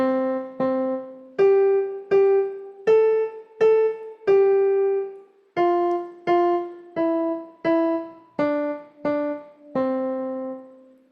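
Simple song lines played on a keyboard piano: about fifteen clear, separate notes in a steady, unhurried melody, each ringing briefly before the next. The instrument is close and alone, with no talk.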